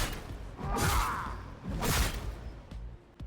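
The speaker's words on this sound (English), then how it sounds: "an uppercut with a sword has a slicing sound" In Elder Scrolls Online, a sword uppercut cuts the air with two sharp, airy slicing swooshes, followed by a couple of faint clicks near the end.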